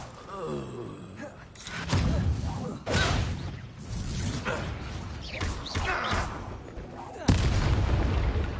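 Confringo and Bombarda spell blasts in the video game Hogwarts Legacy: several loud, booming explosive bursts mixed with combat effects, grunts and gasps.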